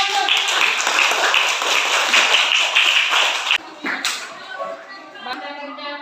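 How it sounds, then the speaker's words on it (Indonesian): A class of students claps together in an Indonesian classroom after a group presentation, loud and brisk for a few seconds, then stops abruptly, leaving scattered claps and room noise. "Tepuk tangan dulu."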